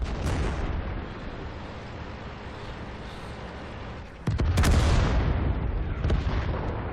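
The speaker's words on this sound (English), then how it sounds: "let's see if we can use one of those artillery strikes" Artillery strike explosions in World of Tanks during Steel Hunt mode: continuous heavy rumbling blasts, then a sharp louder burst of booms around the midpoint with further impacts following, close and loud, no talking.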